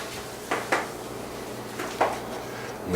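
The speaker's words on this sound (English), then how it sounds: "Okay, let's prepare our stack cooker." A plastic Tupperware stack cooker is handled in a kitchen, with two pairs of light plastic clacks and knocks of lids and parts being fitted, ending on a soft thud, quiet and close.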